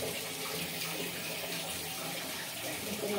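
Water from a tap runs in a steady, close, hissing stream as it is collected for pouring into a pressure cooker to make homemade dal.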